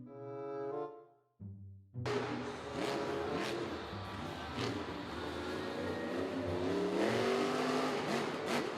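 A toy monster truck plays an engine sound effect that opens with a short musical jingle, then a loud, continuous revving roar that rises and falls for several seconds.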